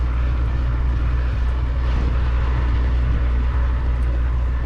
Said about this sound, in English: Maybe you can hear the tractor in the field next to us as the guy goes around